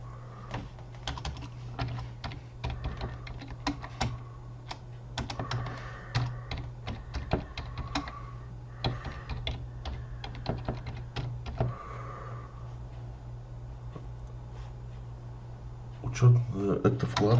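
Rapid clicking on a computer keyboard comes in irregular bursts of keystrokes with short pauses, close and moderately loud. A low hum runs underneath, and a voice speaks quietly at times.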